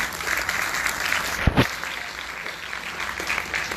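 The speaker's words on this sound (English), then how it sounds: "let's give a big round of applause to Dato again" Audience applause at a 2019 conference talk on the digital revolution and careers, a steady wash of clapping throughout, with a couple of brief sharp knocks near the middle.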